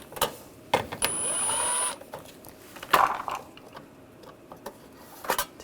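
A ratchet with a 10mm socket backs out license plate screws on a 2011-2018 Ram 1500, giving a short buzzing whir and scattered clicks and taps nearby.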